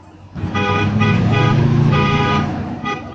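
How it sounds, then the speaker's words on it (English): Car horns honk in a cluster of overlapping toots, one long blast followed by shorter repeated beeps, close and loud over faint street noise. "Why is everybody honking at?"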